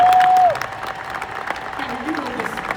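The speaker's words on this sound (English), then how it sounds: "Let's clap it up for this legend of the game." Audience applause at a conference session, a steady spread of clapping that follows a brief sustained tone and continues under someone speaking.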